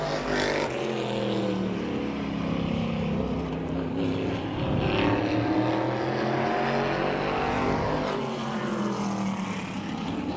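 Modified race cars roar around the track at Claremont Motorsports Park, a continuous engine drone with rising and falling pitch as the cars pass at a distance.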